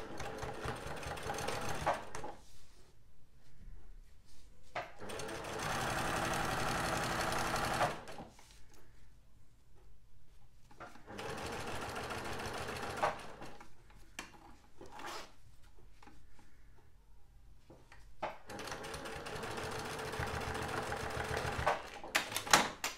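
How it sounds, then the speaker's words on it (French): A sewing machine topstitches a fabric lining along a zip seam in several loud, steady runs of whirring stitches, separated by quiet pauses. "Et je retourne pour suivre ma précédente ligne de couture du zip."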